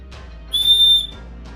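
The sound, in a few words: survival shovel's built-in whistle being blown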